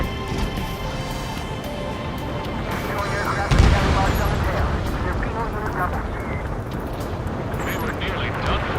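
Ace Combat 7 combat scene with heavy gunfire and a sudden loud explosive boom partway through, over a dense rumbling battle backdrop and radio-style voices.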